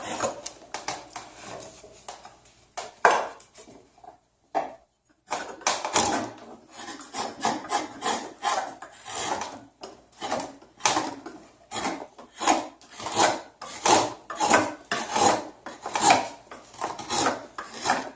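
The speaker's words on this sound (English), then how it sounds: "I even do the back of the bowl too with my draw knife" A draw knife shaves the back of a carved wooden cooking spoon bowl in repeated rasping strokes, each a short scraping burst with brief pauses between, close and clear.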